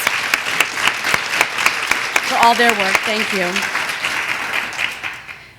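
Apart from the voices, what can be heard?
applause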